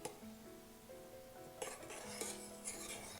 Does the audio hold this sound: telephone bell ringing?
no